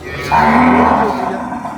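A bovine at a village livestock sale lets out a single long, loud moo that carries through most of the moment, close and clear with no voices over it.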